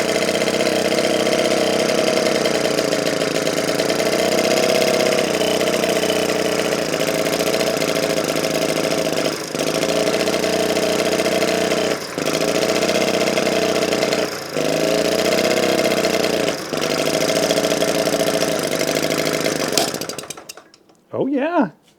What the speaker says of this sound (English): It's definitely struggling with some old fuel right now and possibly also a clogged exhaust system, but it's running.